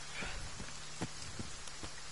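Rain falling outdoors on a mid-August day, a steady hiss of drops with scattered soft pattering hits, close and fairly even throughout, no voices.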